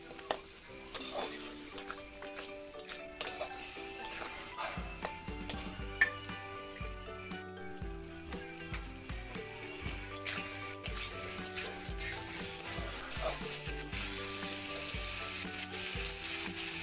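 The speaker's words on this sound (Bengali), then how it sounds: "দিয়ে নাড়িয়ে নিলাম মশলাগুলো আলুর সাথে।" Spices and potato pieces stirred with a little water in a pan while cooking pumpkin seeds, giving a steady close sizzle with repeated scraping and clinks of a utensil against the metal pan throughout.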